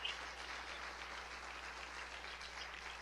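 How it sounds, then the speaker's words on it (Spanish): A church congregation stands and applauds in praise during a worship service, a steady, even wash of many hands clapping together, fairly soft and distant, with no talking over it. "Ese aplauso de pie."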